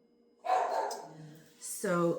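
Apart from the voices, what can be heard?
dog barking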